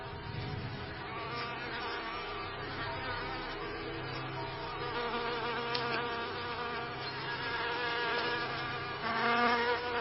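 Bees buzzing in a nature setting where an assassin insect hunts them, a steady, dense insect drone running throughout at moderate level with slight swells toward the end.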